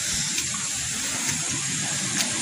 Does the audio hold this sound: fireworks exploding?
no